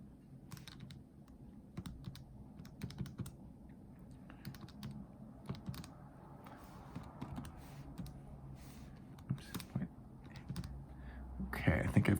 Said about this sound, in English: I think I've typed that in correctly